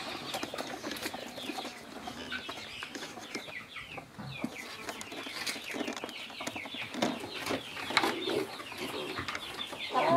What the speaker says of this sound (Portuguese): Vai, galinha, cacareja, vai.